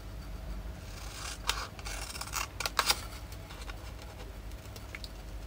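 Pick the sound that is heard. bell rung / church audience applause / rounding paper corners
rounding paper corners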